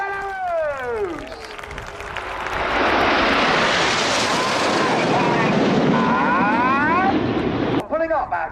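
Red Arrows jets at the Yeovilton Air Show roar past in a loud sweeping pass, the engine tone rising and falling as they fly by, with crowd noise and a voice talking at the start and end.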